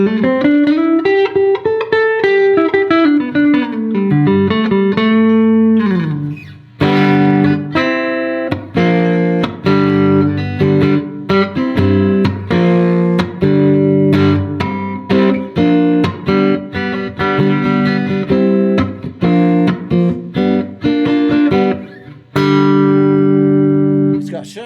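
A distorted electric guitar plays gritty, sustained notes with bends and choppy chords, loud and continuous with brief pauses.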